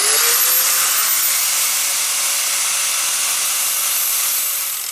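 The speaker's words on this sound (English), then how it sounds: "let's flapper disc this biatch up" A flap disc on a grinder grinds a corroded, poorly spot-welded metal part in one continuous loud, harsh whirring rasp that holds steady for about five seconds and eases slightly at the end, with no voices.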